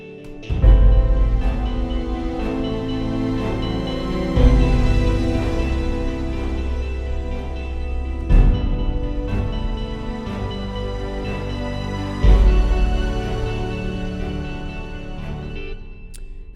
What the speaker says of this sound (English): And then we have a more distorted guitar,